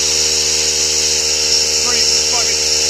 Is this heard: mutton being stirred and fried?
no